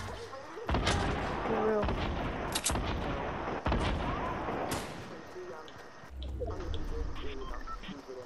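Repeated loud gunshots and heavy booms sound in a Fortnite match, some sharp and near and others rumbling, over steady game noise, while players talk over the fire.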